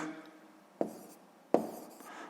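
Pen strokes on paper while a Grade 6 maths exercise is solved, two short separate scratches of handwriting over a quiet room.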